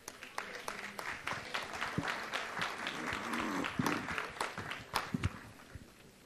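Scattered applause from an audience at a city council meeting honoring an under-15 girls' soccer team, sparse uneven claps with some voices talking underneath.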